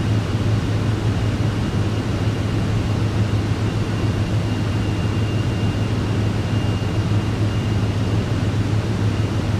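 Cabin engine noise of a Vision Jet in Microsoft Flight Simulator 2024 as it flies to Catalina Island, a steady broadband drone with a low tonal hum that stays constant and fairly loud throughout.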